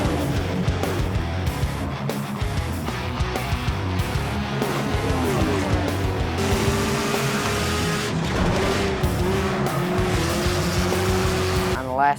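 Pure stock cars racing on an oval track after the green flag, a loud roar of several engines with tires squealing as the pack passes, while a voice talks over the noise.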